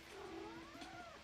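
A cat gives one drawn-out, wavering meow, faint and somewhat distant, with a rising and falling pitch and no talking over it.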